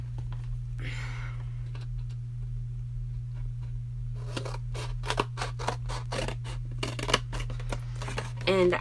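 Scissors cutting cardboard for a junk journal cover, a run of crisp close snips in an irregular rhythm over a steady low electrical hum, with an earlier brief rustle.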